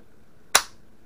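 An unloaded M91 Carcano cavalry carbine with surface rust and a gouge, its bolt cycled and cocking on close, one sharp metallic snap, loud and close in otherwise quiet air.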